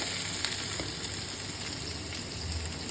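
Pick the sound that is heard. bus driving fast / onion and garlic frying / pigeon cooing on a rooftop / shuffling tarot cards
onion and garlic frying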